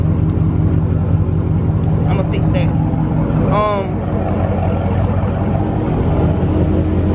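A straight-piped 392 Scat Pack Dodge Charger idles loud and close with a deep steady rumble throughout, while someone talks over it briefly.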